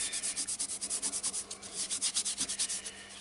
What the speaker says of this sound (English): Apply it with the lathe still and work it in for a minute or two.